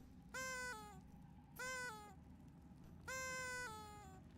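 A cat in a video game meows three times, clear drawn-out calls spaced about a second apart over a quiet background hum.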